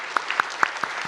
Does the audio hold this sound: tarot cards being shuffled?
no